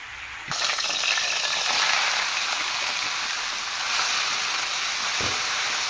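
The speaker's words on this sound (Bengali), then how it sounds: "রসুন দিয়ে আর শুকনো মরিচ দিয়ে শাকটা আমি বাগার দিয়ে নিতেছি" Gourd leaves tempered in hot oil with garlic and dried chili give off a steady, close sizzle of frying. The hiss holds for the whole stretch, and a louder spatter starts it off.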